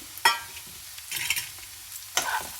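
Carrot and beetroot being stir-fried in a pan, with a soft sizzle beneath three sharp scraping stirs of a spoon against the pan, spread over a few seconds, close up and without speech.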